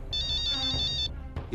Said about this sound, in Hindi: अरे ये तो वही संदीप के आदमी का फोन है।